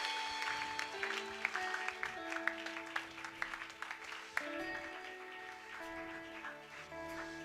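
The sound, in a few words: congregation clapping for the Lord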